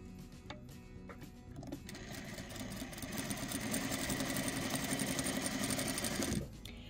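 A sewing machine stitches diagonally corner to corner across a background square laid over a print square, starting after light handling noises and running steadily and close until it stops near the end.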